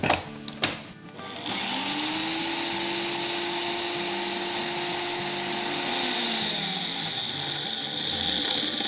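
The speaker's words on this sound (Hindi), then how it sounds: "तो इसको हम पीस लेंगे।" An electric grinder whirs loudly and steadily for several seconds as it pulverises whole spices such as cloves, bay leaves, star anise, nutmeg and black cardamom for biryani masala, after a few knocks of the jar being set in place.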